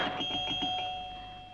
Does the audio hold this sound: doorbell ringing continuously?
yes